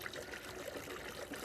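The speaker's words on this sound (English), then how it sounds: "Fun watching folks pour water, isn't it? Cascading pour." Water pouring from a container into the coolant tank of a 1906 Reo Model B antique car, a steady close trickling stream running throughout without talk.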